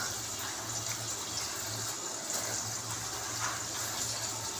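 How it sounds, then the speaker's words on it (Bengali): Water pours steadily onto spice masala in a small bowl, a soft continuous gush and trickle at close range with no break and no speech. "দিয়ে একটু জল দেবো। জল দিয়ে একটু মেখে রাখবো।"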